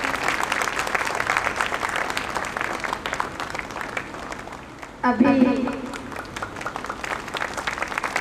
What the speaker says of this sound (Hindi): बबली मैम के लिए भी सभी जोरदार तालियां बजाएंगे।